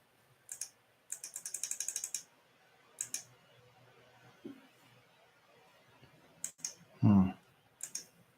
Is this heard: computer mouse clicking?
yes